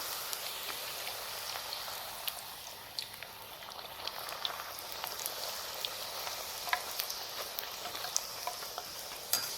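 A steel spoon stirs halwa in a pan, giving steady scraping and soft sizzling with scattered sharp clicks of metal against the pan, fairly close and continuous for the whole stretch, with no talking.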